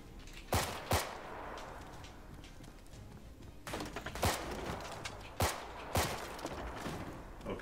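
Hip-fire gunshots in the video game Firewall Ultra crack out in short groups, first a pair, then several sharp bursts, close and fairly loud over a low background hum.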